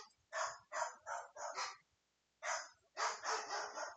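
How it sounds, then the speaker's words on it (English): Dogs bark in a quick series of sharp, faint barks, a cluster of four or five, then a pause and another burst of several more. "The dogs are barking right now."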